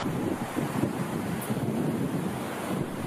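Ocean waves surge and break steadily against a rocky lava coastline in the Galápagos, a continuous rolling roar with wind buffeting the microphone throughout.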